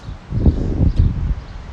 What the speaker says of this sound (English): it's kind of windy, but I want to try to see if I could get in a little bit